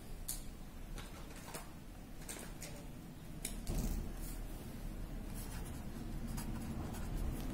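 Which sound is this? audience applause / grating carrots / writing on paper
writing on paper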